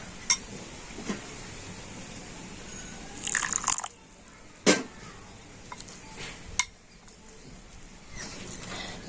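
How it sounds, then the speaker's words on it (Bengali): Raw grated potato and semolina are worked together with a little water, giving wet squelches, scrapes and a few sharp clinks of a spoon against the bowl, spaced irregularly and close up. "তো জল দিয়ে আলু আর সুজিটা কিন্তু ভালো করে মিশিয়ে নেব।"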